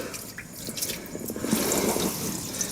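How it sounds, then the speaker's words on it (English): Water drips and trickles steadily into the bilge of a Bayliner Bowrider 175 boat, a wet splashing flow that grows a little louder partway through, with no talking. "now we're draining water into the bilge"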